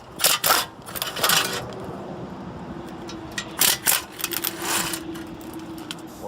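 Four bolts come off a backing plate on a wheel knuckle during a wheel speed sensor replacement, heard as sharp metallic clicks, ratchet bursts and small clinks in brief clusters separated by quiet pauses.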